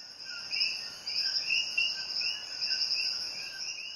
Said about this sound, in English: Puerto Ricans have a deep love for the coqui frog.